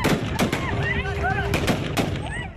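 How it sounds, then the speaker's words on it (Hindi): A Taliban fighter firing repeatedly into the air near people heading to the airport, with several sharp gunshot cracks spread across a noisy outdoor scene and voices and shouting underneath. "इस ताजा वीडियो में एक तालिबानी आतंकवादी लगातार हवाई फायर करता है।"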